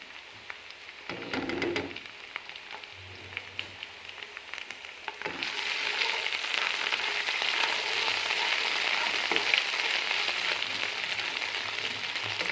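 Onions frying in a hot pan, with a few scraping stirs early on before garlic paste goes in, then a louder, steady close-up sizzle that carries on to the end, no voices.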